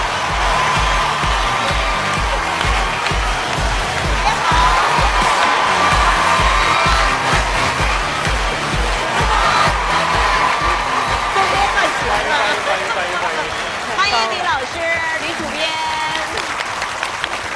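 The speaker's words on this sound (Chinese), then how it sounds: "让我们掌声有请" A television talk-show studio audience bursts into sustained, loud applause with some cheering, steady rhythmic clapping that fades near the end while a voice talks over it.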